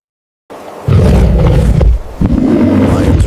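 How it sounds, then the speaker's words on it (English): A lion roars loudly and close, a deep rumbling two-part roar with a brief break in the middle, over a wild savannah setting. "Lion's roar can be heard up to 5 miles away, helping communicate with the pride."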